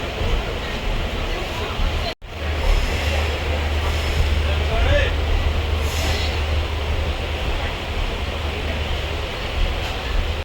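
A train pulling in at Ghazipur railway station, with a steady low rumble of the moving carriages running throughout and a brief dropout near the start, with no voices heard.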